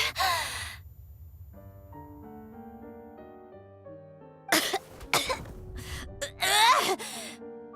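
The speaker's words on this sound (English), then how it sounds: "Wait, why is she coughing?" Several harsh coughs and gasping breaths from a Genshin Impact character, clustered near the end, over a soft sustained musical backdrop after a brief breathy sound at the start.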